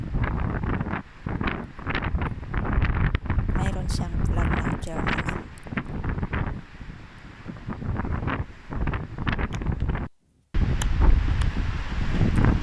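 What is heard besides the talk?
strong wind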